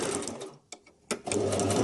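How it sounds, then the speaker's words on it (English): A sewing machine stitching down pleats on palazzo pants, a close, steady mechanical whir that stops briefly for two short bursts and then runs on continuously. "So I'm going to stitch this down."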